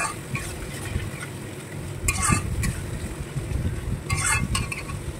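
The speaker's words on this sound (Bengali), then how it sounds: "খুব সুন্দর করে নেড়ে চেড়ে কষিয়ে নিচ্ছি।" Spice paste of tomato and chilli fries in a pan with a constant sizzle while a spoon stirs and scrapes through it, giving a few sharper clinks against the metal.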